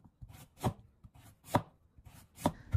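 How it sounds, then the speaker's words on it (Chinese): A knife slices white radish into thick, even pieces on a cutting board, making three or four crisp, evenly spaced chops up close with nothing else heard. "接着我们再将白萝卜改刀切成厚厚的薄片"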